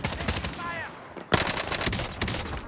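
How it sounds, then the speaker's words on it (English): Gunfire from an incendiary MP40 in a Call of Duty Rebirth Island match: a dense, loud burst of rapid shots erupts after a quieter moment, continuing as a sustained crackling fusillade. "They're shooting me."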